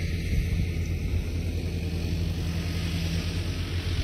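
A tractor loaded with harvested paddy rumbles along with a steady, low engine drone and a broad wash of noise, continuous throughout with no talking.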